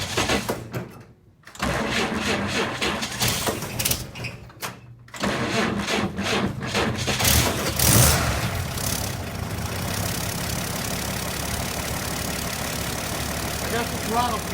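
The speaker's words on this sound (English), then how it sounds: "But let's start the engine," A 1947 GMC truck engine cranks and fires after a few brief pauses, then settles into a steady, rough idle close by, with a person talking over the running engine.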